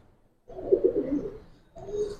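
A young Bezi silver pigeon coos at a loft: a soft burst of low cooing that swells and fades, then a shorter second coo after a brief pause, close and fairly quiet, with no speech.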